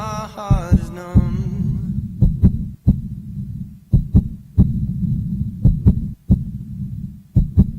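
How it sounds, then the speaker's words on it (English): A child's recorded heartbeat serves as a song's beat: a deep, steady, thumping pulse repeats loudly throughout, with a brief sung melody over the opening second. "What you hear isn't just any beat, it's the actual heartbeat of a child in need."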